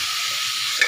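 Pork leg (pata) frying in a pan gives a steady, bright sizzle that stays even, with a small pop near the end.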